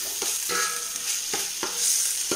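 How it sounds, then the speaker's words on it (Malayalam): Homemade rice ada for palada is sautéed and stirred in a pan, a steady soft sizzle broken by several scraping strokes of a spoon at a regular pace, close and alone. "ഇപ്പോൾ ഒന്ന് രണ്ട് മിനിറ്റ് ഇത് വഴറ്റി എടുത്തിട്ടുണ്ട്."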